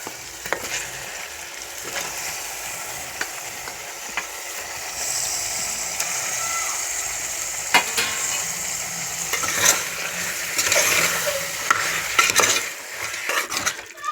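Mutton pieces sizzle in a hot pan while being stirred, with continuous frying hiss and repeated scraping and clinking strokes of a spoon against the metal, no talking.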